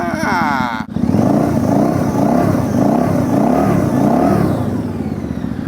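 A Harley-Davidson V-Rod 1200cc motorcycle engine runs nearby with a loud, throbbing idle that rises and falls in slow repeated revs, someone talking over it.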